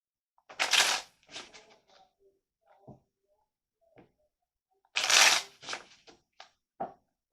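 A tarot card is pulled from a deck, two short bursts of soft card shuffling and sliding separated by quiet, with small taps and rustles between, close and faint with no talk.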